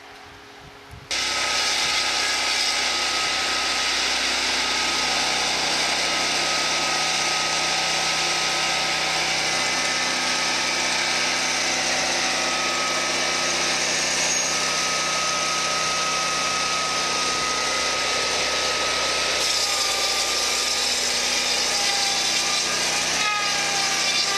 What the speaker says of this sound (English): We're going to take and chamfer off this one corner, come back and swing over 180 degrees and do the other corner in one pass, in one shot.